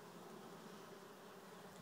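A solitary bee hums steadily and quietly, a continuous faint buzz heard alone for under two seconds.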